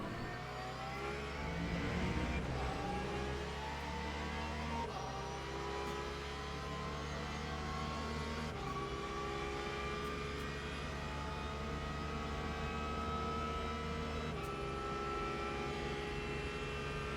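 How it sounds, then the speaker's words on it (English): A Porsche GT3 race car engine in the video game Le Mans Ultimate, racing at Imola, gives a quiet, continuous whine. Its pitch climbs and then drops back at each gear change through the run, with no voices. "I love the sound of the Porsche, it's so weird."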